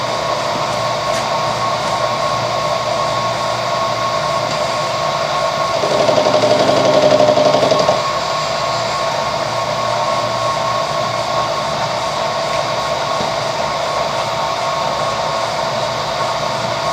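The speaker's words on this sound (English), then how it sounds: "I'm machining it into the direction of cut, conventional milling" A light milling machine cuts metal with a 5mm cutter in conventional milling, with a steady motor whine throughout. The cut grows louder and rougher for about two seconds in the middle, then returns to the even hum.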